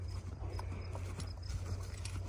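Horses walk on a summer mountain pasture, their hooves clip-clopping faintly and irregularly at a distance, over a steady low hum.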